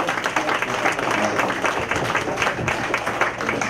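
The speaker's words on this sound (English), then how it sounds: "Clap it up for yourselves for coming out to this event." An audience at a live event applauds itself, sustained dense clapping from a crowd filling the whole stretch, with a little chatter mixed in.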